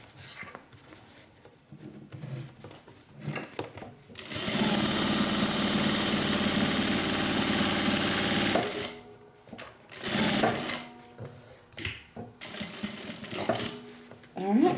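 A sewing machine stitches a hippie-van wristlet in one sustained whirring run of several seconds, with quieter bursts of mechanism noise and a voice talking before and after.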